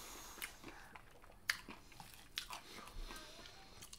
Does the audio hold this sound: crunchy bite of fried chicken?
yes